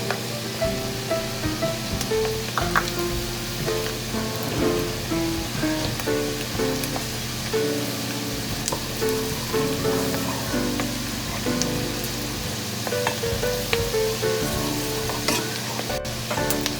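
Garlic frying in melted margarine in a frying pan, a continuous bright crackling sizzle with popping spatters, close and steady with no voices.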